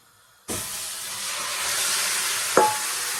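Chicken hits a hot pot for a Jamaican pumpkin chicken curry and starts a loud, steady sizzle that hisses on continuously, with a clank of a utensil partway through.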